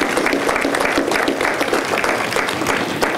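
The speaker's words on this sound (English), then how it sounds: "Let's give them a big round of applause for honoring them today." A crowd at a Memorial Day remembrance ceremony at Fort Custer National Cemetery applauds the wreath organizations with an even wash of many hands clapping outdoors, moderately loud and sustained throughout.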